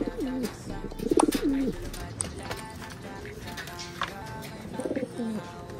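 Pigeons coo close by in a few low, throaty rolling bursts at a feeding spot, with light shuffling and tapping noises between calls.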